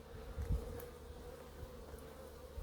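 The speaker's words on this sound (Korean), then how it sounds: "저 오니까 요 위에 벌이 벌통 하나 있는데 저기도 지금 날라드는데" Native honeybees swarming into a hive, a steady buzzing hum of many insects close by, with a few louder passes as bees fly near.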